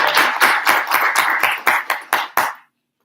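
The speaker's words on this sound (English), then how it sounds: "Let us have a huge round of applause." A small audience claps for dignitaries at a tunnelling association launch event in Delhi, a run of about ten distinct bursts of hand claps, close and fairly loud, that stop abruptly after two and a half seconds.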